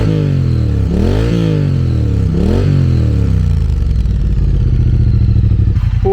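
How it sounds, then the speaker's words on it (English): A 2021 Triumph Street Twin Gold Line with a 900cc engine revs hard twice through its exhausts, each rise and fall loud and close, then settles into a steady, throbbing idle. "Can you hear the purr from that engine, that little grunt? It sounds bigger than a 900cc bike."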